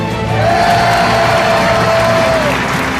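A Thai game show studio audience cheering squad, loud steady applause and crowd cheering throughout, close and continuous with a sustained tone under it.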